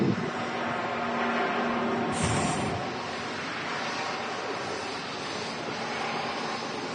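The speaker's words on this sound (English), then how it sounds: "Singapore Airlines screaming out there on 23 left." Singapore Airlines airliner on runway 23 left at Manchester Airport, its jet engines giving a continuous broad roar that stays loud and steady throughout, with no speech.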